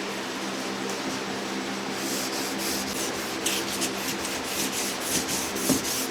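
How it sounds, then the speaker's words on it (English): Steady, close scratchy rubbing of sandpaper on wood by hand, a continuous rasping that grows slightly stronger with rhythmic strokes. "I hope there's a better utensil for sanding this out."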